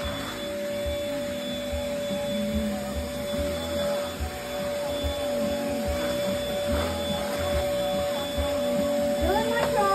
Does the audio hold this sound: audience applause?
no